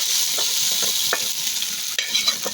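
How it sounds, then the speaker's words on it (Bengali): Chopped garlic fried in oil for a haleem tempering crackles in a bright, continuous sizzle, with a few sharper pops and spatters through it. "এখন আমি বাগার দিয়ে দেব"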